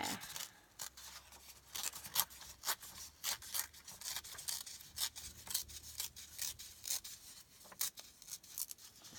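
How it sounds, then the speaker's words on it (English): Paper is torn by hand for a junk journal, making a quiet, close series of short ripping and rustling bursts at an uneven rhythm. "I'm holding with my left hand and tearing with my right hand"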